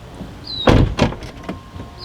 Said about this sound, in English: Then again, we're going to close and open the door twice.